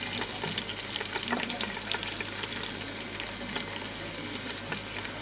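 Chopped onions frying in hot oil in a pot, a steady, close sizzle with faint crackles and stirring scrapes throughout.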